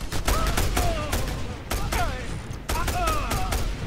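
Rapid bursts of gunfire from a signature gun in the video game Just Cause 2, several loud volleys separated by short pauses, with game sounds and faint voices mixed in.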